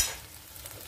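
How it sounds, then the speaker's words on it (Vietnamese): Chinese sausage sizzling as it fries in its own rendered fat, a brief, soft, steady hiss with faint stirring, heard alone and close. "Thì mình lấy cái nước mỡ đó mình chiên luôn."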